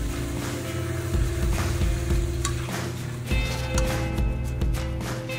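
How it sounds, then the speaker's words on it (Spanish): Cuttlefish sautéing briefly in a frying pan with just a little oil, giving a steady close sizzle with occasional stirring scrapes and clicks of the pan, with no talking. "en una sartén con apenas aceite vamos a saltear el choco solamente"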